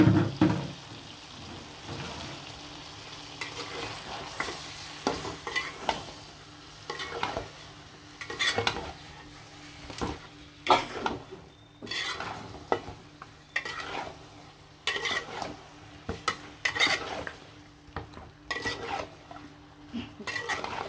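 Chicken pieces sautéing with spice paste in a pan, with repeated scraping and stirring strokes and utensil clatter over a low, continuous sizzle, close and fairly quiet.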